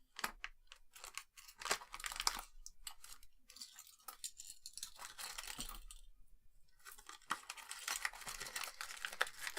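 Plastic bag packaging crinkles and rustles as it is handled, with irregular crackling bursts that come and go close by and no talking.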